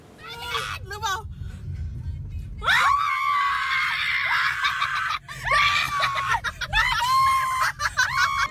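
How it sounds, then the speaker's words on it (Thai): Loud, high-pitched screaming from a crowd, rising in repeated bursts that swell and fade, with some shrieks and giggles mixed in. "จะตกใจกับเสียงกรี๊ดของแฟนคลับหรือเปล่าไปฟังกันค่ะ"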